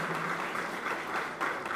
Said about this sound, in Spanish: un aplauso al equipo de Carabobo